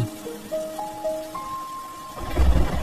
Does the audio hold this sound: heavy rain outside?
yes